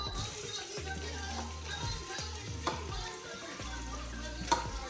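Finely chopped onion fries and sizzles in hot oil with a pinch of asafoetida inside a pressure cooker, a steady close hiss with occasional stirring scrapes and clatters, no talking.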